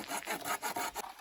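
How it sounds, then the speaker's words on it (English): A handsaw cuts through wood for a trellis pillar, its teeth rasping in steady back-and-forth strokes, about six quick pushes and pulls close up, with no voices. "So they're using a handsaw."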